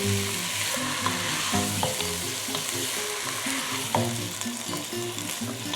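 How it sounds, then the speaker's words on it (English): Black, red and white beans in a vegetarian chili are stirred in a pot, a continuous bubbling sizzle with soft scraping strokes of a spoon under it, close and steady. "Black beans, red beans, white beans. I'm going to give this just a little bit of a stir."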